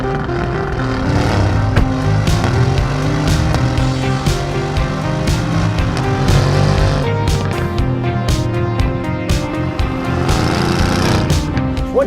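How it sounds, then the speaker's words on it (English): A 2020 Mercedes-AMG GT R sports car drives along, its engine a loud, steady droning rumble heard from inside the car, with repeated short clicks and knocks over the top. "'20 Mercedes AMG GTR. With launch control."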